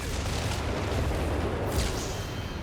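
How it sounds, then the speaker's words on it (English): An artillery barrage in Company of Heroes 3 rumbles on without a break, deep booms and blasts rolling together at a steady, moderate loudness, with no talk. "Drops down artillery on the building"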